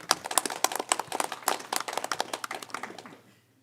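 A studio audience gives a short round of polite, light clapping at a photography awards show, scattered claps that thin out and fade to silence within a few seconds.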